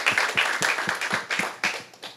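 Scattered, uneven hand claps from a small group of staff at a Council of Indigenous Peoples gathering, thanking the Ministry of Examination, in short irregular bursts for a couple of seconds.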